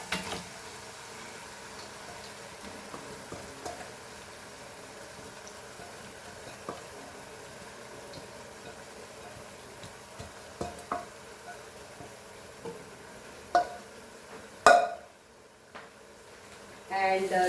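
Marinated mutton sizzles faintly in a pot for a dal gosht, with scattered clinks and stirring knocks and a louder clatter near the end.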